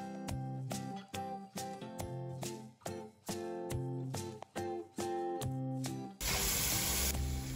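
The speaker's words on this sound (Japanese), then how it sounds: "まず最初にプルーンをきれいに洗っていきます" Plums (prunes) washed under a running tap in a sink, rhythmic bursts of water with music-like tonal stretches, then a steady louder gush of flowing water near the end.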